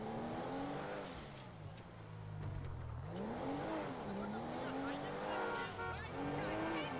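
A 2012 Porsche Cayenne Turbo driven in GTA 5, its engine note rising and falling with revs and shifts, heard under continuous talking.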